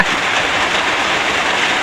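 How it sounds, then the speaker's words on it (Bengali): Steady, dense hiss of rain falling nearby, a constant loud wash of noise with no voices. "বৃষ্টি পড়তেছে যে দেখা যায় না"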